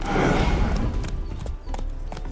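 Horse hooves clip-clopping in the video game The Witcher 3, a short run of close, steady hoofbeats under a noisy ambient bed, with no talk.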